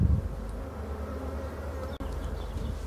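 Honeybees swarming around an open hive during a spring inspection, a dense steady drone of many wings, close and continuous, with a brief low thump near the start.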